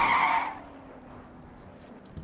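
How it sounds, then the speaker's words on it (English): Stock cars crash and skid during a sim racing video game event on an oval, with a loud tire squeal at the start that fades quickly into a low engine hum and a faint bump near the end. "Here comes Jordan Anderson's crash."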